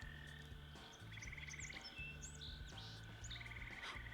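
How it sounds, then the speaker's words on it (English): Frogs croak in Moonlight on Roseville Beach, low pulsing calls repeating steadily, joined by trilling chirps and bird-like tweets above a steady high hum, with no talking. "I haven't heard a good frog in a while."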